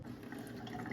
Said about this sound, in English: So today we're going to rinse off the cure and get the meat out on racks